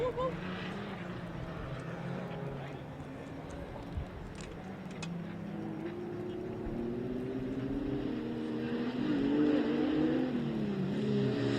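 Off-road 4x4 race vehicles push around the dirt track at the MetalCloak Stampede in Prairie City, California, a continuous engine drone rising and swelling in pitch as they accelerate, with a commentator talking over it.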